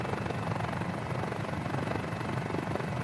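Steady, loud rotor and engine drone of a Mini-500 helicopter in Microsoft Flight Simulator, a continuous, even thrum with no pauses.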